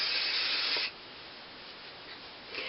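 Hairspray hisses in a close, loud burst onto hair curled with a flat iron, then a quieter gap follows before a second short spray.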